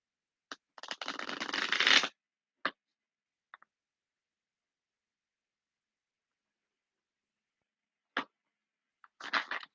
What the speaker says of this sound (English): I'm going to shuffle these 2 more times and then we'll get your cards out